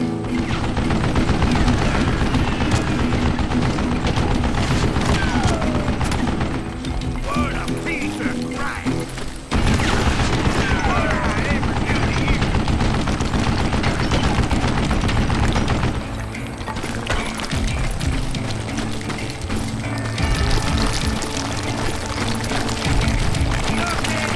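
A mounted gun fires in the Western shooter Call of Juarez Gunslinger, a loud, near-continuous stream of rapid gunfire with booming impacts filling the whole stretch, dipping briefly around the midpoint before resuming.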